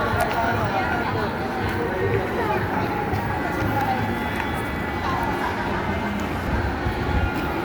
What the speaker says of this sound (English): This is the famous M train.